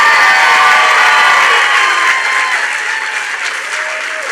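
Loud, sustained applause from a large crowd at a political campaign launch, dense clapping that fades slightly toward the end, with no talking over it.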